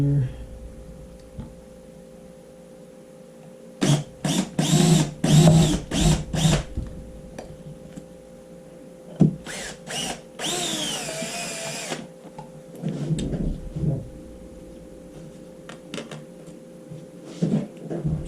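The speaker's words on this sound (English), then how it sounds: "get another hole drilled here." A power drill boring a hole during an air compressor repair, heard as a few short whirring bursts followed by a longer, higher-pitched run, close up, with workshop clatter and pauses in between.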